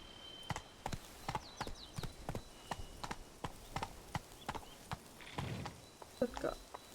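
Hooves of Roach, the horse in The Witcher 3, clip-clopping at a steady walking rhythm, close and fairly faint, with a couple of brief louder thuds near the end.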